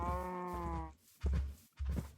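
A Minecraft sheep bleats in a long wavering call, followed by two short, lower bleats in quick succession, all close and clear with no talking over them.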